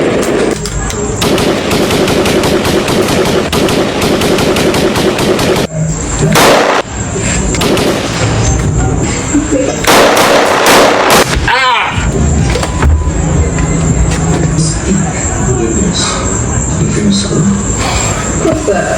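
Rapid automatic gunfire and single loud shots from a Jamaican action-drama shootout, with bursts running throughout, a short gap, then more heavy volleys under a music bed and occasional voices.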